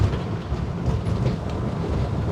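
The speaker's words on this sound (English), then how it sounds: "Those 250s, the big V8s, the high capacity motors, they bit deep there, and they just whip this boat onto the plane." Big V8 250 outboard motors on a NAVAN C30 boat roar steadily at high speed around 45 knots, a dense, continuous rush of engine and hull-on-water noise with no talk.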